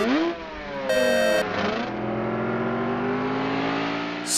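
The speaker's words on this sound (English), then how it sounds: "Six race cars are ready." Cartoon race car engines from a kids' animation rev in a smooth, rising whine, loud and close, with a brief bright tonal burst early on and a steady sustained drone after it.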